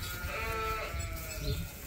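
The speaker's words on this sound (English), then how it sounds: "This is one of the ewe lambs that I marked as a keeper." A ewe lamb on a sheep farm bleats nearby at weaning time, a wavering, nasal cry that is close and fairly clear and lasts almost two seconds.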